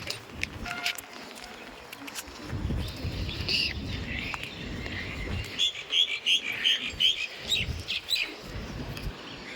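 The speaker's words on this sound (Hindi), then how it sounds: "mom is giving food to crows and pigeons" Crows and pigeons call outdoors at a household feeding spot, a mix of chirps and repeated short calls over a steady ambient background, growing busier toward the end.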